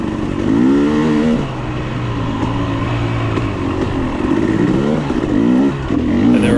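A 2022 KTM 300 XC-W dirt bike engine in a hare scramble race, loud and close throughout, revving up and down in repeated rising and falling pulls with a continuous throaty drone between.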